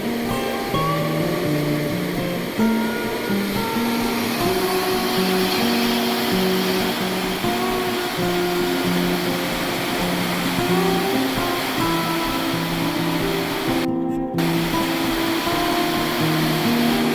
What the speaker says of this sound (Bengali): ফরিদপুরে সুইচ গেট খুলে দেওয়া হয়েছে পানির অনেক প্রবল বেগ